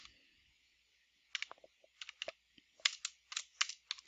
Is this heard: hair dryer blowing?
no